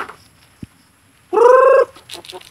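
Chickens and chicks being fed on a small farm, with a single knock followed by one loud, close clucking call and a few faint peeps after it.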